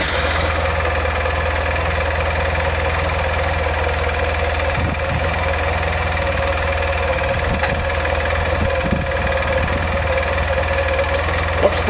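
A motor scooter engine idles with a steady low chugging hum, close and constant, with faint voices talking now and then.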